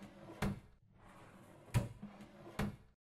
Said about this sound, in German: wir können ja noch die weiteren Schubladen hier erstmal öffnen